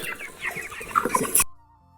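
Chickens cluck softly in short, scattered calls over background noise, ending abruptly.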